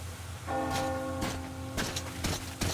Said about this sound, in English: Do you hear that bell?